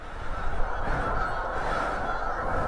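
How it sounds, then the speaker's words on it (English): Dense, continuous honking from a flock of about 300 geese in fresh snow at a distance, blending into a noisy, clamoring wash of calls. "That's like 300 geese over there."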